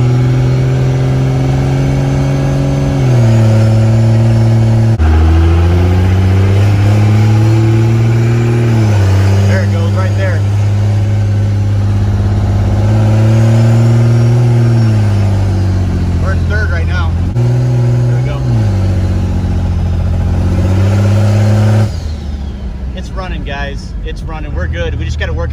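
A diesel truck engine pulls steadily, its pitch climbing and then dropping several times as the transmission shifts up through the gears. The drone stays loud and close throughout, and toward the end it settles into a rougher, broken texture.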